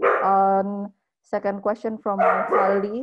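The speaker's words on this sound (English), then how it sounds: "sorry for the dog." A dog barks and yips a few times in the background of a podcast recording, mixed in with a person speaking close to the microphone.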